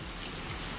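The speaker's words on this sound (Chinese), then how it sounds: "现在下大雨" Heavy rain pours steadily during an autumn rainy-season morning walk toward a bus stop, a dense, even hiss with no pauses, loud and close, with no talk.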